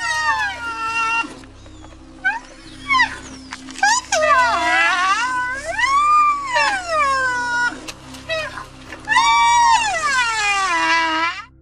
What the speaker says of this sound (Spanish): Los rinocerontes, a pesar de su descomunal tamaño, aspecto amenazante y su inmenso poder destructivo, pueden comunicarse con sonidos tan tiernos e inofensivos como estos.